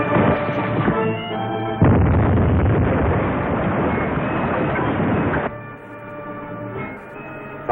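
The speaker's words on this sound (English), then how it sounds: "Torpedo one fired, sir." A submarine torpedo launches in an old film: a loud sustained whooshing rush bursts in after a brief lull, holds steady for several seconds, then drops to a lower rumble.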